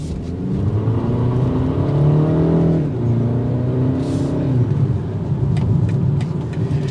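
A 2023 BMW 228i Gran Coupe accelerating on a test drive, a steady engine drone rising in pitch, dipping briefly at a gear change and climbing again under road rumble, heard from inside the car with no talk.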